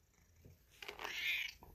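A hungry cat meows once, a drawn-out, fairly close cry in a quiet room, preceded by a faint soft sound.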